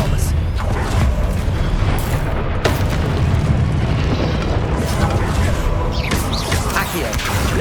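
In the Hogwarts Legacy video game, an Expelliarmus spell is cast amid dense combat effects: booming bursts, crashes and swirling magical whooshes over a constant loud rumble, with shouted voices mixed in.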